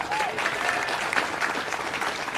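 An audience at a political county chairs' brunch keeps up steady, dense applause throughout, loud and continuous with a faint murmur of voices underneath.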